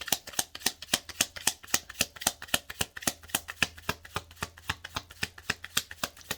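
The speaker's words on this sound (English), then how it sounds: "I'm going to pull a couple cards." A deck of tarot cards is riffled and shuffled in a steady, rapid rhythm of crisp snapping bursts, close and fairly quiet, with no voices.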